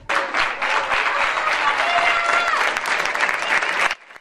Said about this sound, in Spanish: Ovación cerrada cuando saltaban al campo los futbolistas blancos, ovación general y también alguna individual.